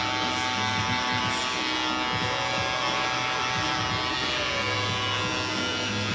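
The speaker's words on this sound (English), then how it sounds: "Now I'm going to use the cordless T outliner to work on the bottom line" A cordless T-outliner hair clipper buzzes steadily and close while trimming the bottom line of a haircut, a constant electric hum with small variations as it moves along the hair.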